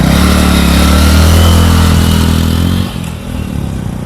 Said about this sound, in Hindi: बाइक से जा रहे हो आप?